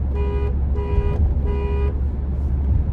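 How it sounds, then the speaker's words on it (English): Stock horn on a 2024 Toyota Tundra pickup honks three times in steady bursts of about half a second each, close and clear over low road rumble, with no talking. "this truck is not deserving of a horn like that"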